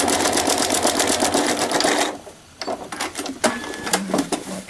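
A sewing machine free-motion stitches a textured quilt, running in fast continuous bursts for about two seconds, pausing, then resuming in shorter irregular runs, close and fairly loud.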